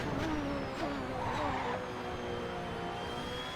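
A 2010 Lotus Exos T125 Formula 1 car in a racing simulator on the Nürburgring Nordschleife, its engine held at full throttle in a steady high-pitched whine that climbs through the gears with brief shift dips.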